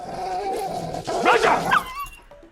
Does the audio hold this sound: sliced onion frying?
no